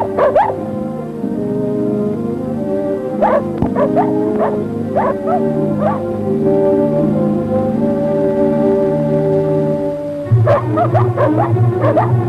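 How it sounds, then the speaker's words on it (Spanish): Dog barking and yipping in a film scene, a run of sharp barks with whimpering yips, fairly close and prominent, with a brief heavier burst near the end. "¡Maldito perro!"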